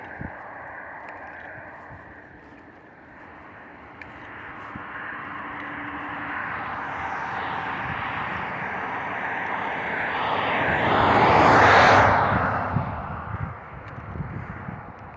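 A helicopter flies overhead, its rotor and engine rumble building steadily to a loud, close peak near the end before beginning to fade.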